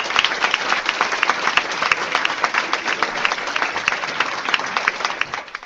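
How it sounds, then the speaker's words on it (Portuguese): Dense, sustained audience applause fills the whole stretch, many hands clapping at an even loud level with no talk over it, fading slightly at the very end. "Uma salva de palmas aqui."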